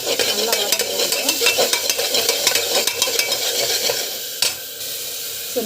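Gravy sautéing in a pan with steady stirring, a dense sizzle broken by repeated spoon scrapes and clinks, loud and close, and a sharper scrape near the end.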